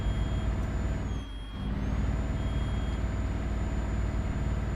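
Heavy truck in Euro Truck Simulator 2 idling in neutral with a low, steady diesel rumble and a brief dip then swell as it is revved, plus steady electronic beeping tones, no talking.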